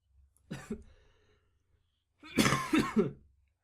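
A female anime character, from Youjo Senki episode 9, coughs in two separate bursts: a short double cough, then a longer, louder rasping fit, with near-silence around them.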